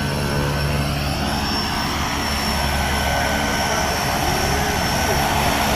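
Steady, loud aircraft engine roar fills the cabin of a skydiving plane just before the jump, a constant droning hum with muffled voices underneath.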